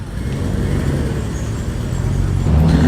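A classic BMW E28 saloon at an outdoor youngtimer car show for 1970s cars at Gawsworth Hall, its engine a steady, fairly close low rumble with continuous vehicle noise and no talk.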